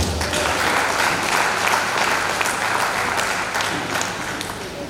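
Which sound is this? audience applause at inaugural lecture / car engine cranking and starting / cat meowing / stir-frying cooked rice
audience applause at inaugural lecture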